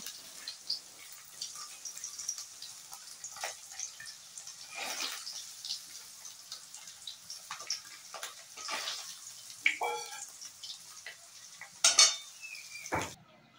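Fried paneer pieces lifted out of hot oil in a pan, soft background sizzle with intermittent metallic clinks and scrapes of a utensil against the pan, a few louder knocks near the end.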